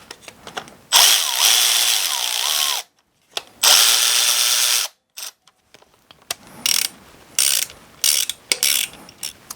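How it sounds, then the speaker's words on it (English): Bolt on a home-built 1,000hp LS engine being tightened down with a torque wrench, giving several loud bursts of ratcheting clicks, two long runs and then a string of short ones, with no talking. "I'll just torque the bolt down."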